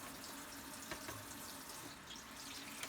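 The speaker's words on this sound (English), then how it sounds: "So my wife's going to start the water." Water runs from a tap in a soft, steady, low-level wash, with a couple of faint drips or splashes over it. No one speaks.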